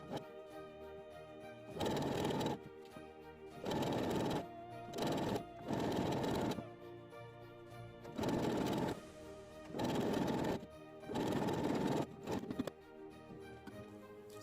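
A sewing machine runs in six or seven separate bursts of a few seconds each, with short pauses between them, while stitching together the back of a cowl neck top. The machine sounds close and steady, and no one talks.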